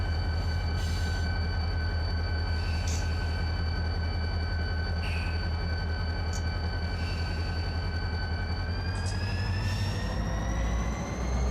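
A freight train in the Run 8 train simulator rolls along with too much locomotive brake on, giving a continuous loud rumble with sustained high metallic wheel squeal that shifts pitch near the end.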